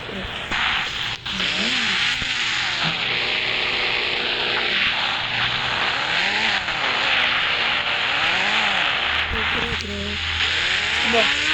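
Motorbike engines revving and racing nearby, rising and falling in repeated sweeps, with voices talking over the loud continuous roar.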